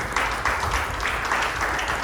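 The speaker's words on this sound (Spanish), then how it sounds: "Demos un aplauso al Señor." Dense, continuous applause from a church congregation during a Holy Communion service, loud and sustained throughout.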